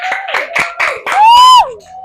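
A class claps hands in a classroom, giving a few quick rhythmic bursts of claps. A voice then calls out loudly over the end.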